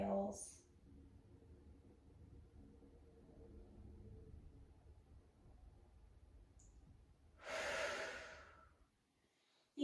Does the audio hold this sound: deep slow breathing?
yes